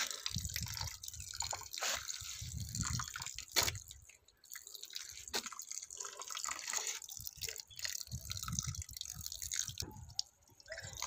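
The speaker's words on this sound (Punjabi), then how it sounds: "ਪਾਣੀ ਇਸ ਤਰ੍ਹਾਂ ਦੇਣਾ ਜਿਹੜੇ ਆਪਾਂ ਹੋਲ ਕੀਤੇ ਆ ਨਾ ਇਹਦੇ ਉਧਰ ਦੀ ਪਾਣੀ ਜਿਹੜਾ ਨਿਕਲ ਜਾਵੇ" Water trickles and drips into a cocopeat-filled pot holding guava cuttings, a faint, soft splashing that comes and goes in short pours with brief pauses.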